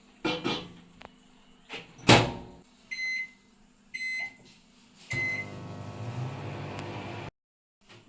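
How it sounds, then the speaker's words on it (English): A microwave oven heating a chocolate fudge mixture: door clunks and beeps, then a steady low hum of the running oven for about two seconds before it stops, close and fairly quiet. "Now we are going to put this in the oven for 30 seconds."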